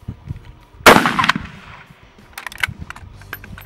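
A 30-30 rifle fires one loud, sharp shot at an outdoor shooting session, its report ringing out and decaying, followed by scattered fainter pops and bangs from other guns nearby.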